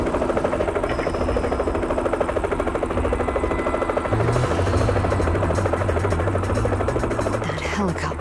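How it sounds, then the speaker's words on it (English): Rapid rhythmic thumping of helicopter rotors in Resident Evil: The Umbrella Chronicles drones steadily throughout, with a low engine whine shifting pitch near the end. "That helicopter is my ticket out of here."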